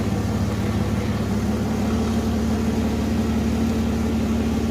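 A 1993 Chevrolet S10 with a 4.3 engine, parked for 20 years and just revived, runs at a steady, loud, even idle with a constant low hum.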